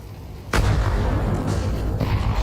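A grenade going off in Counter-Strike on Dust II, a sudden loud boom after a quiet start followed by a heavy rumbling tail that fades slowly, no voices.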